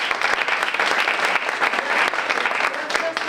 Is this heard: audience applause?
yes